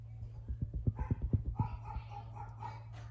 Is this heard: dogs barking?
yes